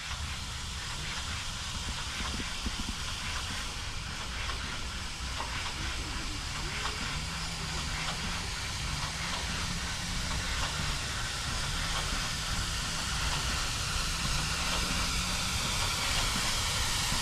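Black-painted steam locomotive 9351 pulls into Stogumber station on a heritage line, giving a continuous hiss of steam with a low rumbling undertone and faint rhythmic chuffs, steady and fairly close throughout.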